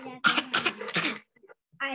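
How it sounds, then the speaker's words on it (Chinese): A child's short cough bursts, three quick harsh coughs in a row close up, followed by a pause and then faint voiced sounds. "你是咳嗽吗？"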